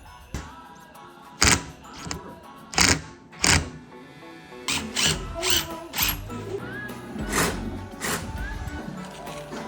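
A screw is backed out during a Sprinter van build-out, with repeated close ratcheting and driver whirs, several sharp bursts and then a steadier run of mechanical turning.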